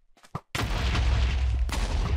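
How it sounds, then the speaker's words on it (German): A sudden loud booming blast from arrows colliding and exploding mid-air in Minecraft, preceded by a couple of small thumps, then a sustained roaring rumble close and dominant. "Haben sich unsere Pfeile gerade getroffen, so dass die in der Luft mittendrin explodiert sind?"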